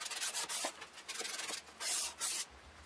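Sandpaper of 320 grit rubs over a wooden TV stand between coats of Arm-R-Seal finish, with close, steady back-and-forth strokes that come in short rhythmic bursts and a few longer, louder passes, and no talk.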